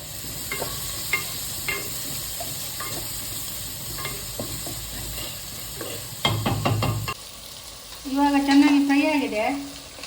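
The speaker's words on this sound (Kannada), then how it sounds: "ಈಗ ಟೊಮೆಟೊ ನೀರುಳ್ಳಿ ಎಲ್ಲ ಚೆನ್ನಾಗಿ ಫ್ರೈ ಆಗಿದೆ" Tomato and onion fry in a pan for crab sukka, with steady sizzling broken by several spoon scrapes and clinks, then a louder burst of hissing near the end.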